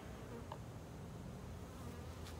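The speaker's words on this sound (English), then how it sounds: "Now these are calmer bees than those over there." Honeybees buzz steadily inside an open hive box during a spring inspection, a low continuous drone that stays even throughout with no talking.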